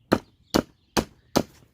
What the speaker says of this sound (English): So you need to hammer this part.